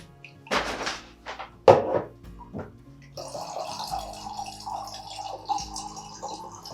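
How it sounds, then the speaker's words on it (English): Cold water poured into a jar of sliced red onions for fermenting, with a few thunks and splashes followed by a steady trickling fill, close and fairly quiet. "I'm gonna add more cold water to get it to fill all the way up."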